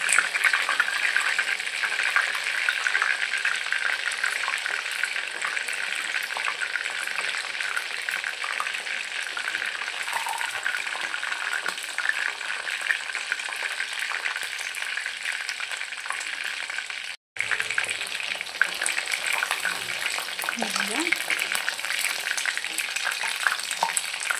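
Spicy chicken pieces deep fry in oil with a dense, steady, close crackling sizzle that continues almost without pause, broken by one brief cut.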